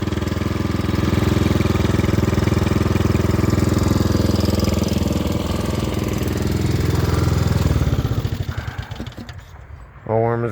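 A Hammerhead 150 go-kart engine idles steadily and loudly up close, a dense mid-low drone that holds for most of the clip before the revs rise and then die away near the end.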